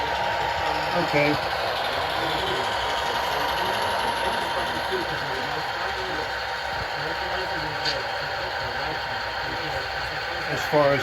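Sound-equipped model train locomotives, a Susquehanna engine and a P40-8, run on a layout. They give a steady mechanical diesel hum and chug with a whining drone, continuous at moderate loudness.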